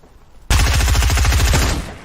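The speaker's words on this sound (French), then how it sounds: "Ah mais là avec un sniper." In the video game Fortnite, a loud, close burst of rapid automatic gunfire rattles off after a short quiet lead-in and lasts just over a second before cutting off.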